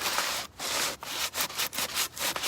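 A metal table is sanded by hand in quick back-and-forth strokes. Each harsh, gritty rasp is separated by brief pauses in an uneven rhythm, close up, with no talking.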